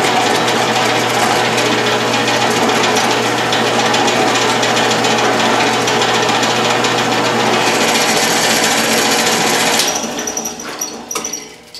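A drill press bores into a metal bullet sizer part, giving a loud, steady grinding whine with a low motor hum that runs for about ten seconds, then the cutting stops and the noise winds down.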